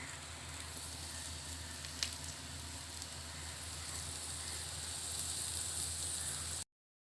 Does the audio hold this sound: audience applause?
no